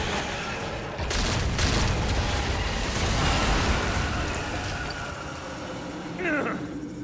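A large explosion in the video game Resident Evil 6 erupts with a sudden loud boom, then a long rumbling roar that slowly fades, with a brief crackle near the end.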